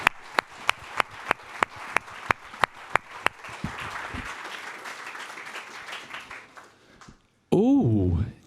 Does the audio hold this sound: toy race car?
no